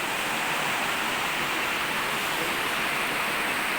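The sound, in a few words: strong river water flowing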